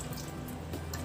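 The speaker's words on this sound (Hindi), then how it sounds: "अब हम अपने करेलों को अच्छे से पानी में डालकर इसको वॉश कर देंगे।" Bitter gourds being washed and squeezed in water produce a short, faint, continuous splashing and dripping sound with a few brief wet swishes, and no voices.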